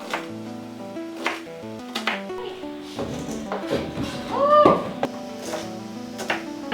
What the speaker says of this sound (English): Now I'm going to start cutting up the zucchini